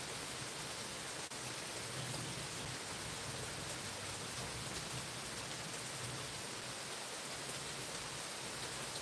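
Steady rain falls on a rainy Sunday morning, an even, unbroken hiss of drops that holds at the same level throughout with no voices.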